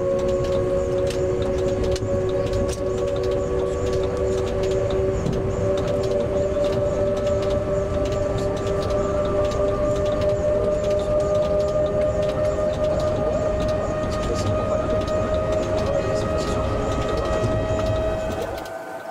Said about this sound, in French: nous avons accompagné en cabine de conduite le train 9241 au départ de Chambéry